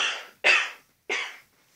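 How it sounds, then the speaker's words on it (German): Two short, muffled coughs from one person, close to the microphone and separated by a brief pause, with quiet room noise after them. "Ich habe jetzt mal ein bisschen leiser gehustet."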